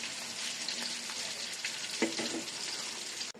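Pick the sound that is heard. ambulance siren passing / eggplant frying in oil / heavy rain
eggplant frying in oil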